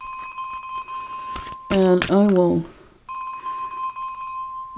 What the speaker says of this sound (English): My phone rings while I'm on camera because I forgot to turn it off.